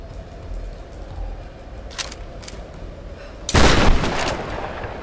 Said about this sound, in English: Can I shoot a grenade out of this?